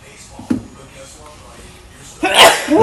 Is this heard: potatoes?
no